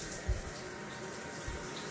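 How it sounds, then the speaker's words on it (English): Water sprays and trickles steadily down a glass shower enclosure, a constant faint wash of falling droplets with a couple of soft low thumps. "You see all the water falling?"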